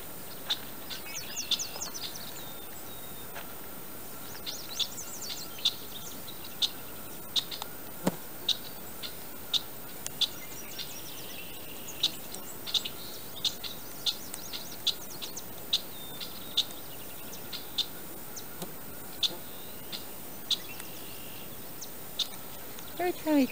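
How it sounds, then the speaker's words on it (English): A red-winged blackbird perched atop a tree, giving repeated sharp chirps at irregular intervals over a quiet outdoor background, fairly close and clear, with faint talk in places. "There's a red-winged blackbird sitting on top of the tree."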